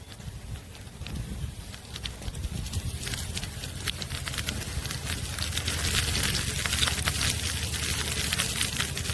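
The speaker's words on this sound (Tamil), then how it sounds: "கடுகு பொரிஞ்சிருச்சு." Mustard seeds splutter and crackle in hot oil at the start of a fish curry, a dense, steady stream of sharp pops and sizzle that grows slightly busier toward the end.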